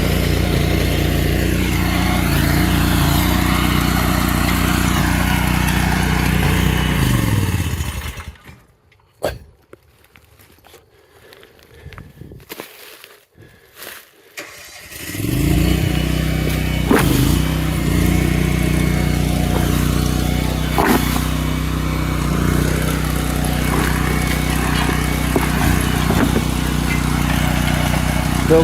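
Tractor-mounted trencher engine running steadily while digging a trench, loud and continuous with a low throbbing drone, dropping away to near quiet for several seconds midway before resuming at full level.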